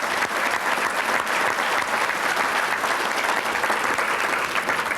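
An audience at a youth sports volunteer recognition ceremony gives a sustained, even round of applause, dense and steady from start to finish.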